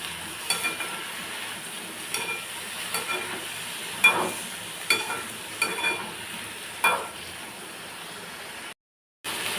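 Chopped brinjal sautéing in oil with popped mustard seeds, a steady close sizzle with soft spoon stirs and scrapes knocking every second or so, ending in a brief silence.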